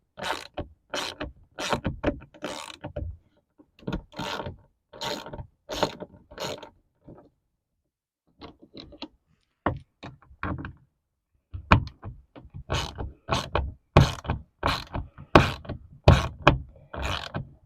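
A wrench turns to loosen a bolt on a machine panel, sounding as bursts of quick ratcheting clicks that come in clusters with a pause in the middle, close and fairly loud.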